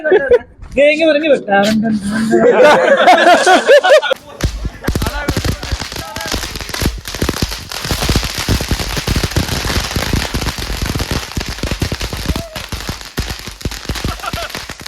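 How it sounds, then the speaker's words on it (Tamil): A voice talks briefly, then a rapid crackling barrage of small boom firecracker pops and bangs at Diwali continues densely, sharp and close. "இந்த பூம் வெடி எப்படி இது வெடிக்கிறதுன்னு தெரியலையே"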